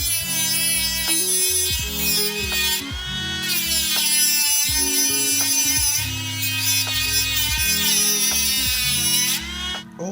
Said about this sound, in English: I'm gonna see if I can break some more of this tension up on this bolt head so it'll come